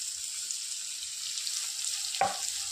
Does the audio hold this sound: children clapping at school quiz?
no